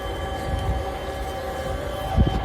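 A steady low rumble with tonal hum of an idling train locomotive nearby at a railway station, with a couple of soft thumps toward the end.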